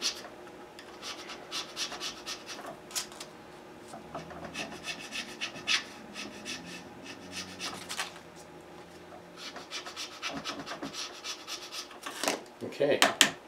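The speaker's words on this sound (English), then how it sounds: "I like to kind of work it down by hand a little bit with the file to get that final fit." A hand file rasps across a guitar nut during fitting for a custom '57 Showster guitar, close-up bursts of scraping strokes with pauses between them.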